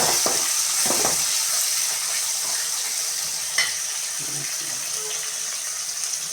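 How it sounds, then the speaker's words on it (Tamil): Onions and tomatoes sauté in a pan for a fish curry, giving a steady hissing sizzle with a few soft stirring clinks, close and continuous without speech. "இப்போ நெக்ஸ்ட்டு நம்ம தக்காளி வந்து நம்ம போட்டுட்டு நல்லா வதக்கி விட்டுக்கலாம்."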